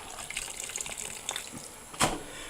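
Cold water runs steadily from a tap over salted, fermented Napa cabbage being rinsed for kimchi, a continuous broadband splashing with a brief louder gush near the end, no talking.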